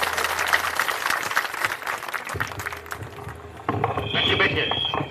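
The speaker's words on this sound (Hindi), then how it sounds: "अब एक बार जोरदार ताली बजाइए आदरणीय प्रशांत जी के लिए" Rally crowd in Bihar clapping loudly for a speaker, a dense burst of applause that fades after a couple of seconds into wind-buffeted outdoor noise and murmuring.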